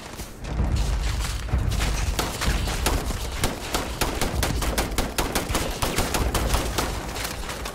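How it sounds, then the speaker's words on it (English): Heavy gunfire in a Starfield battle: dense, rapid bursts of automatic shots crack continuously at close range, loud and relentless with deep booming thumps underneath. "there's a lot of fire coming from that direction"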